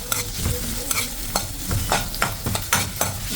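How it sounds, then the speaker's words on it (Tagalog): Onion and garlic sauté in a hot pan for a Filipino eggplant and shrimp paste dish, with a steady sizzle under repeated close scraping strokes of a spatula. "Gisa lang natin itong ating mga sangkap-sangkap."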